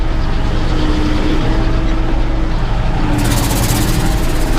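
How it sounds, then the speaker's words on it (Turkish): A farm tractor running at about 1500 rpm while spreading fertilizer over a wheat field gives a loud, constant engine drone, close up and unbroken, with a brighter hiss joining in partway through. "Bizim bu traktör arkadaşlar Seri 1 ile e, 1500 devirde 6 kilometre hıza ulaşıyor."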